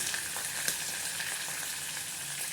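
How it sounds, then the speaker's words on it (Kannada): Green chilies, curry leaves and onion sizzling in hot oil in a pan, a bright, steady crackle with small pops, close and alone. "ಸೊ ಇವಾಗ ಹಸಿಮೆಣ್ಸಿಕಾಯಿ ಹಾಕೋಣ ಕರಿಬೇವು ಈರುಳ್ಳಿ"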